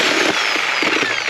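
A power tool cuts through metal on scrap radiators, giving a loud, continuous, close grinding and buzzing roar with no break and no talk.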